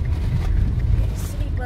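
A car drives through a downtown area with one-lane streets, its steady engine and road rumble continuous and fairly loud, mixed with wind noise across the microphone.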